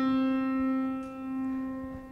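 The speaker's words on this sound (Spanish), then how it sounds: "Si yo cojo una cuerda y de repente suena así" A single plucked string rings out with a clear, steady pitch and bright overtones, sustaining and slowly fading across the whole moment.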